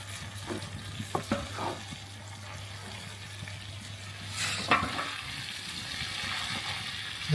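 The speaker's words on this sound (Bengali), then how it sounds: "সবকিছু নেড়ে চেড়ে আবার আরেকবার ভালোভাবে মিশিয়ে নিচ্ছি" Chicken chow mein with bell peppers is stirred and tossed in a pan, with a soft continuous sizzle broken by clattering utensil scrapes and a louder burst of frying near the end.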